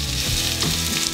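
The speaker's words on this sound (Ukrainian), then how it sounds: "Можемо кидати цибулю. Ми її підсмажуємо до золотистого кольору." Chopped onion sizzles steadily in a hot frying pan, a continuous close crackle and hiss with no talking.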